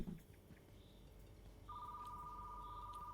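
A telephone rings in a retro-style video game, a steady electronic ring starting partway through and holding continuously over faint background ambience.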